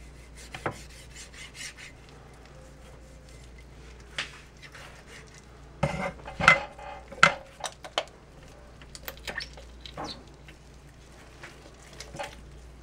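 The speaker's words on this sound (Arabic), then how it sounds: "لما تقطعوا الدجاج، تستعينوا بايدكم بقوتكم وبالسكين" A knife works through raw chicken at the joint, giving faint scraping and rubbing with scattered sharp clicks against a board or dish, quiet and close, with no talking.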